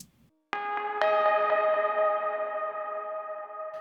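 Juno synth lead processed with ping pong stereo delay, Space Echo and Lexicon reverb, playing bright bell-like sustained notes with repeating echoes that ring and slowly fade, loud and spacious with no voices.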